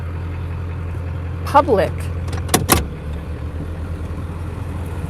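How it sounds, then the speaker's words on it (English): A loud truck engine rumbles steadily close by in a public street, with a brief clatter and passing noises, under a nearby voice speaking. "Do you hear how loud this truck is?"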